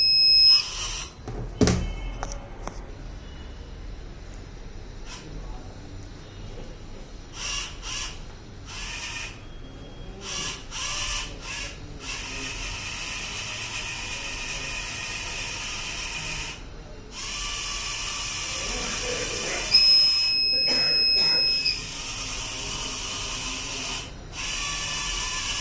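An ESP32-camera surveillance robot with metal detection sounds its alert as a series of high, thin electronic beeps, some short and some held, repeating through the clip over a soft background hiss.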